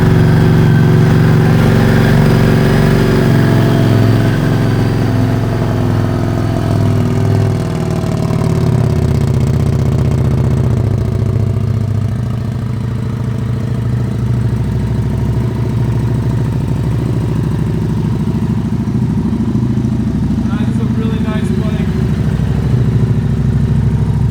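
A 2015 Harley-Davidson Street 750 motorcycle engine starts and settles into a steady, loud, close-up idle with a deep, even rumble that holds for the full stretch, with no talking over it.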